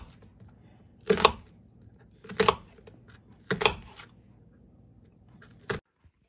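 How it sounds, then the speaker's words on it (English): A knife cuts a big sweet onion on a board for ham and bean soup: four sharp, separate chops spaced about a second apart, close and crisp in a quiet kitchen. "Cutting the big old sweet onion up."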